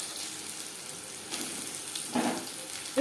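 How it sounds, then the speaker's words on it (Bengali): Green chilies frying with nigella seeds in hot oil, a steady soft sizzle with broadband hiss throughout and a brief louder crackle near the end; no voices. "কালো জিরের সাথে 1-2 মিনিট লঙ্কা ভেজে নেওয়ার পর দিয়ে দেবো ধনে।"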